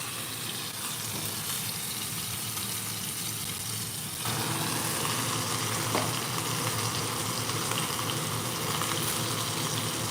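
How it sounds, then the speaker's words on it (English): Beef sears in a hot pan with a loud, steady sizzle that runs the whole time, briefly intensifying as more meat meets the surface partway through, and no voices over it. "So we got 2 more sides that we need to sear."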